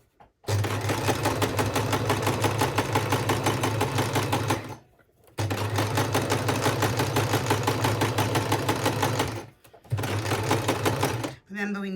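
Sewing machine stitching a heart wreath wall decoration, running in three steady bursts of fast, even mechanical clatter separated by brief pauses, close and loud, with no talk over it.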